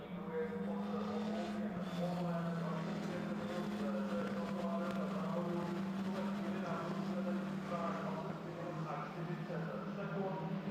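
Formula 4 race cars run a lap of the Most circuit during an ESET Cup 2023 race, their engines a continuous, distant droning whine under a commentator's steady talk.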